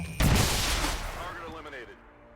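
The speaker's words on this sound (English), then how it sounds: "I think I've a better chance with the shotgun to kill that" A shotgun blast in XCOM 2 fires once, loud and sharp, with a booming tail that rolls off over about two seconds.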